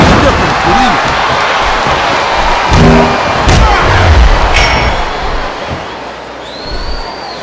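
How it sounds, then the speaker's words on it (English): A WWE wrestling arena crowd chants loudly over a dense, roaring wall of audience noise, with a few heavy thuds from the ring cutting through. "listen to that chant, Taz"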